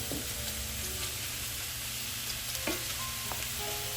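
Mushrooms frying in a pan, a continuous soft sizzle with occasional scraping stirs, quiet and close with no talking.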